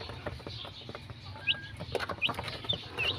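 Chicks peep with short high chirps scattered over a low background murmur, close by, alongside softer clucking from nearby fowl.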